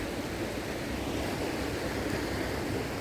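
A clear river near Anaktuvuk Pass, Alaska, flows past as a steady, broad rushing wash of water, moderately loud and continuous with no voices.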